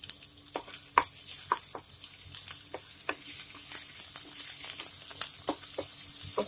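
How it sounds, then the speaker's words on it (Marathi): Onion, ginger and garlic frying in hot oil in a pan, a steady close sizzle with scattered spatters and occasional stirring scrapes. "हे चांगलं भाजून घ्यायचं."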